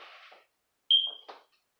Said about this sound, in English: Change them batteries in that damn smoke detector.